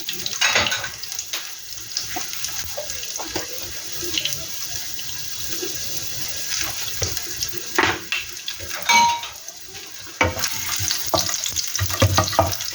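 Garlic sizzling in hot oil in a pan for a Filipino tomato and egg sauté, a steady close crackling hiss with occasional louder pops and clinks, no voices.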